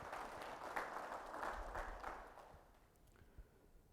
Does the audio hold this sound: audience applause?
yes